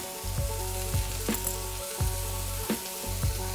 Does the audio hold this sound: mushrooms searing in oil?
yes